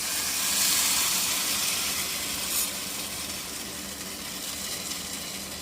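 Mustard seeds sizzle in hot oil in a pan, a steady close hiss and crackle running throughout, with a brief louder flare early on.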